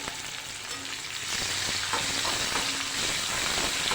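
Carrot and chili pieces are stirred in a frying pan over a medium gas flame for cabbage sambharo. A soft hiss grows louder as a spatula scrapes and stirs in a few quick strokes.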